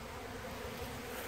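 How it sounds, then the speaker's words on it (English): Honey bees robbing out hive boxes in a frenzy, a dense, steady buzzing of many insects filling the air, continuous and fairly loud, with no voices. "There's quite a frenzy going on here, see? Got bees everywhere. I hope the camera picks it up. It's quite the buzz in the air."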